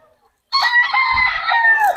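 A rooster crows once, loud and close, at a roadside chicken market, a single drawn-out call lasting over a second after a brief quiet start, with a faint low cluck underneath.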